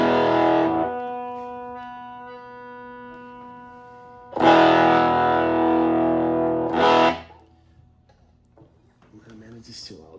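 Fuzzy, distorted electric guitar chords through a vintage germanium fuzz pedal ring out and sustain in an apartment, separated by a pause, then fade to near silence.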